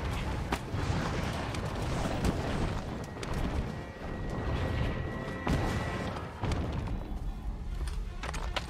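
Weapon shots in Monster Hunter World, repeated loud cracks and thuds of bowgun fire amid battle noise, spaced irregularly over several seconds.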